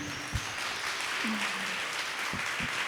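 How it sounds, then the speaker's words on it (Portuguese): Audience applause at a round-table gathering, a steady broadband wash of clapping sustained throughout at moderate distance, with a few brief low voice fragments surfacing beneath it. "Essas palmas são para ela mesmo, porque ela passou à frente."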